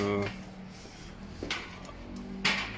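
A door being pushed shut during an appliance fitting, with short muffled knocks and a sharper thud near the end, heard close by over a background hum and tonal whine.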